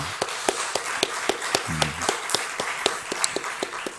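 Scattered hand claps from a small church congregation applauding their children, sharp separate claps at an uneven, loose rhythm rather than a full ovation, with a brief low murmur partway through.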